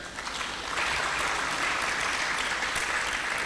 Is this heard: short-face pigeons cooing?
no